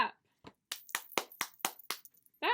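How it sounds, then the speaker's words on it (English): A small group of hands clapping along at a children's storytime, about seven separate bursts of claps in loose rhythm, fairly close, with a short break between the first burst and the rest, and brief voices at the start and end. "Let's clap."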